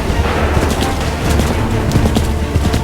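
Musket volley crackling in Assassin's Creed 3, a dense, continuous roll of overlapping shots filling the whole stretch at steady loudness, with no clear single reports standing out.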